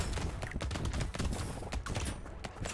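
Shotguns firing in the video game Brotato: a dense, rapid stream of overlapping blasts and impacts, loud and continuous throughout.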